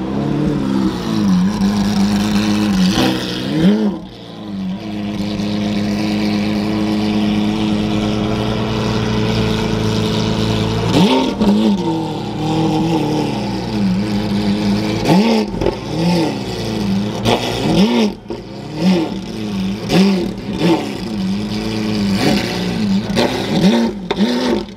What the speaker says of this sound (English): there's nothing like a Lamborghini V12